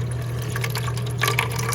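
Water trickles and splashes steadily from a disconnected supply line at an angle stop into a small bucket, a continuous close dribble over a low hum.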